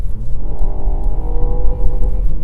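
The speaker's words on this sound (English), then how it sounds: "there's a bit of a crackle and a pop from the exhaust" A Ford Fiesta ST engine revs hard with a steady low rumble, and faint crackles and pops from the exhaust sound close by.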